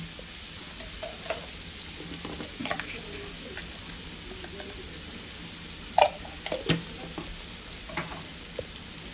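Food sizzling and frying in an iron pan, a steady close hiss with occasional stirring scrapes and clinks, no talk.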